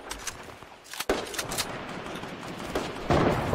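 Fortnite gunfire during a trios match, a near continuous rattle of shots with a sharp crack early on and a louder burst near the end.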